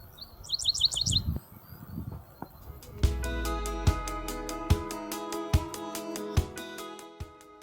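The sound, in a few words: dickcissel calling in a summer field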